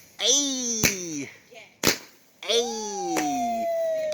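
Fourth of July fireworks going off as a few sharp, loud cracks spaced about a second apart, mixed with excited shouting voices.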